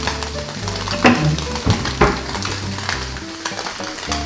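Food sizzles and crackles steadily in a worn hot pan while Korean chili is toasted for mushroom noodles, with a few sharper pops and clinks of stirring rising over the continuous frying hiss.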